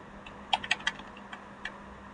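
Computer keyboard keys are pressed a handful of times in a quiet room, giving light, close clicks in a short irregular cluster and then one more tap.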